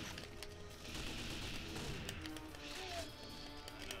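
Gunfire in 007 Nightfire on the GameCube: a steady, fairly quiet stream of shots and impacts in multiplayer combat that continues unbroken for several seconds.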